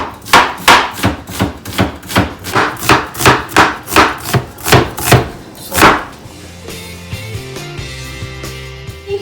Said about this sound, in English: So now I'm going to start by slicing some onions.